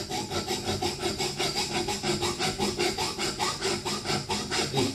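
A hacksaw cuts through metal bolts in fast, even back-and-forth strokes. Close, loud, steady rasping with a regular pulse and no talk.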